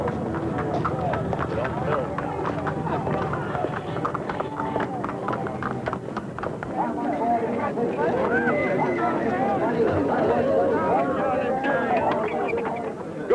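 Horses at Stow Horse Fair, a spring horse fair in the Cotswolds, trotting with busy rapid hoof clops amid crowd babble and voices talking.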